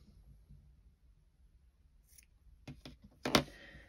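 Scissors snip the yarn ends of a twisted headband made on a circular knitting machine, a few short, close crisp cuts near the end after a quiet stretch.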